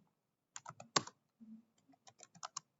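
Typing on a computer keyboard, two quick bursts of crisp close key clicks with one heavier keystroke and a brief pause between the runs.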